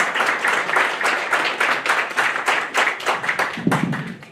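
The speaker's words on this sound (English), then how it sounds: "One more round of applause." Audience applause at a St. Johns incubator pitch event, a steady round of dense clapping from a room of people that carries at even loudness throughout, with a brief low murmur of voices near the end.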